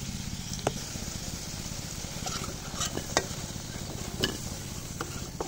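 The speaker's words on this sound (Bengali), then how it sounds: "চুলার আঁচে আমি আলুটাও লাল লাল করে ভেজে নেব" Potatoes frying in hot oil on a stove, browning to a reddish colour: a steady close sizzle with a few sharp pops and spatters, no voices.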